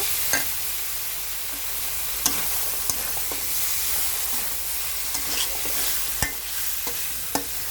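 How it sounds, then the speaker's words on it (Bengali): Red chili powder and turmeric frying in a pan with shing fish, a steady oily sizzle broken by sharp scrapes and clicks of a spatula stirring, close and continuous. "আবার একটু নাড়াচাড়া করে মিশিয়ে নেব"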